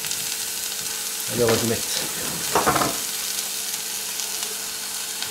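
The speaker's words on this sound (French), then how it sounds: "On va les faire revenir." Raw porcini mushrooms, washed and cleaned, sautéing in a pan with a steady sizzle that swells briefly twice as they are added and stirred, under a quiet voice.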